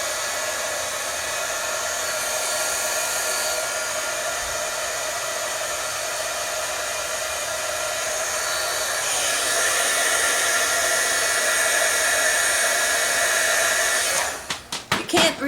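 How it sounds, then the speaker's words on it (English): A heat gun blows on a card to dry tacky ink, giving a steady close whooshing roar like a hair dryer that grows a little louder midway and then cuts off with a few clicks near the end. "I'm going to hit it with the heat gun."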